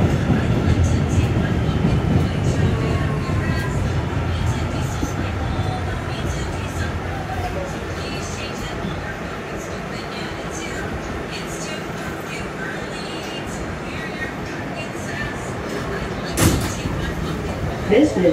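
A brand-new R211S subway train on the Staten Island Railway runs with a steady, close rumble and rattle heard from inside the car, with a sharp clank near the end.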